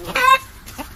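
Chickens near a dog give a short burst of clucking and squawking, a quick harmonic cackle followed by a fainter single cluck, close by and with no talking.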